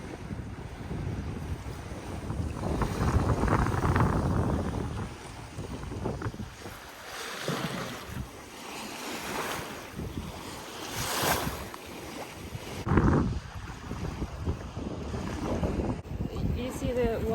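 Wind and water rush steadily around a sailing boat on a Norwegian fjord, with gusty noise and splashing waves throughout; no clear talk.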